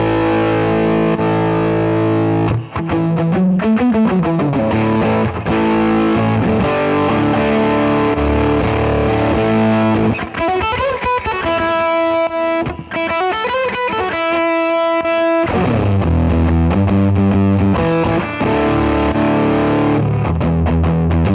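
An electric guitar played through a Cornerstone NERO fuzz pedal, with the footswitch flipping between two extreme settings, produces loud, thick, saturated fuzz tones that shift in character every few seconds across a long run of riffs and sustained notes.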